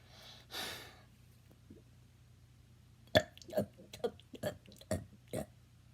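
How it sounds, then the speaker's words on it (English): A rapid series of about six short, close burps comes in quick succession, preceded by a breathy inhale and a small sound, in an otherwise quiet room. "So today I'm going to attempt to do 5 burps in 3 seconds."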